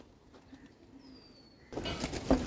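Pigeons kept in a home loft with their young give faint, soft low coos in a quiet setting, followed by a sudden burst of louder broadband rustling noise.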